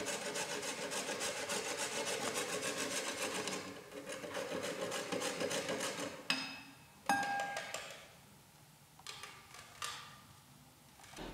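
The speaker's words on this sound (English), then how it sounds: "He grates the chalk into fine powder with a kitchen grater." Chalk is grated into fine powder on a kitchen grater, a close, steady rhythmic rasping that runs for several seconds and then breaks into a few shorter separate scrapes.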